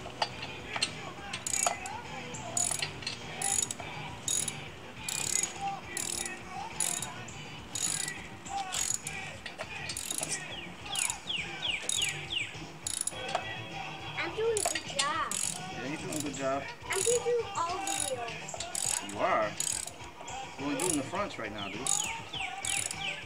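A hand ratchet tightening lug nuts on a car tire, with repeated bursts of rapid clicking pawl strokes in a steady rhythm, close and clear, plus faint bird chirps outside and occasional quiet talk between strokes.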